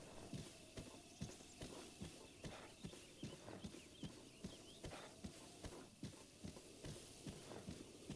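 Horse hooves clip-clopping steadily while riding in Zelda: Breath of the Wild, a regular rhythmic gait of sharp thuds over a bright outdoor ambience with faint birdsong.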